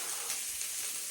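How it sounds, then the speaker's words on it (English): Sausages frying in a pan give off a close, continuous bright sizzle with a steady hiss and small crackles, heard alone without any talking. "the sound of sausages frying in a pan"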